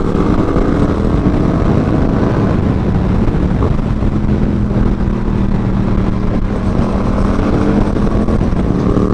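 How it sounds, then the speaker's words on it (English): A motorcycle with a stock exhaust cruises steadily along a road, its engine droning continuously and loud under heavy wind rush, no speech. "my bike would sound so much cooler if I had a pipe on it"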